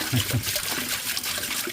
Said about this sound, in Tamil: இது வந்து வாட்டர் ஃபால் இல்லை, வாட்டர் ஃபவுண்டைன்.